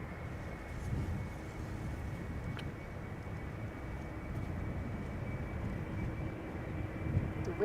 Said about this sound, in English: First up in the pipeline is this Embraer 190, which will be going to Bristol,